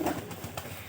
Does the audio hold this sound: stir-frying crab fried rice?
no